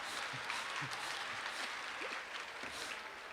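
A church congregation applauds in a faint, diffuse patter of clapping heard from a distance, with murmured voices underneath.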